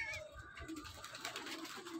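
A pigeon just released outdoors: soft, low cooing with fluttering textures, faint and somewhat distant over light background noise, lasting a couple of seconds.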